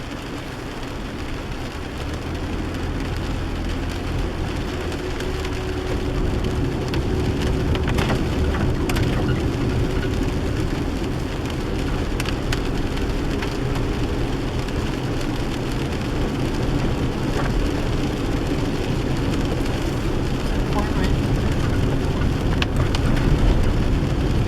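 Heavy rain falls steadily through a Pacific Northwest coastal forest, a dense continuous hiss of drops on leaves and ground that holds at a constant loud level from start to finish, with no voices.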